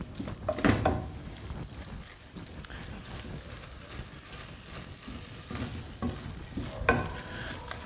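Seasoned chicken fries in a pan while being stirred, giving a soft, uneven sizzle with rustling, scraping movements and a couple of louder bumps, heard up close with some rumbling microphone noise.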